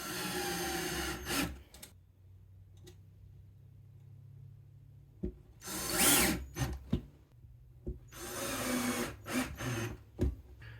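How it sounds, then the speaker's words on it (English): Power screwdriver driving screws to fix small brackets onto the sides of a picture frame, a few short whirring bursts between quiet stretches with handling clicks, close and fairly faint. "So I'm just going to take my power screwdriver here."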